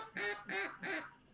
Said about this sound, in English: Give him a quack, I should say.